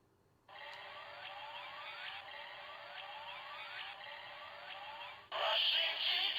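A Kamen Rider Zero-One gashapon Progrise Key toy plays a loud electronic sound effect of repeated rising siren-like sweeps, followed by a brighter, noisier burst at the end.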